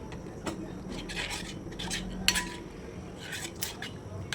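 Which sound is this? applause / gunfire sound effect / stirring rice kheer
stirring rice kheer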